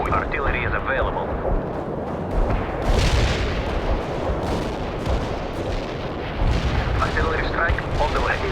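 Heavy artillery barrage in the World in Conflict game, with repeated loud booms and rumbling blasts layered under a voice speaking.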